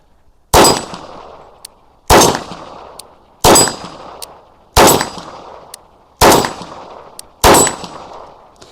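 A Beretta 96FS Samurai Edge replica pistol fires six loud, sharp shots at roughly even intervals, each with a metallic clang and a short ringing decay.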